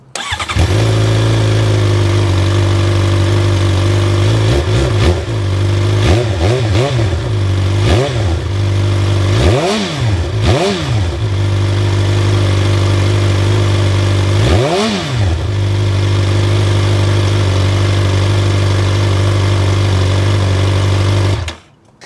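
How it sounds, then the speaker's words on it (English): A 2025 Suzuki GSX-R750 sport motorcycle engine idles loudly up close, with several sharp throttle blips revving up and dropping back before it settles and cuts off. "it's time to hear how this motorcycle sounds"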